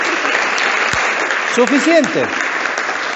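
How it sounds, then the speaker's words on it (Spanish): A church congregation claps for Ana María, a continuous roar of applause throughout, with a voice briefly calling out over it partway through. "¡Aplauso por Ana María!"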